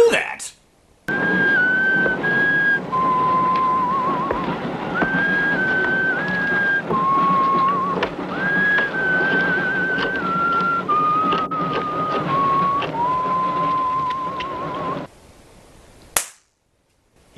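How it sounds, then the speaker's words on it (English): A man whistles a slow, wandering tune in the 1972 horror film Horror Express, with sustained notes stepping up and down over steady background film noise, framed by sharp clicks at the start and end. "his whistling is out of sync with the video"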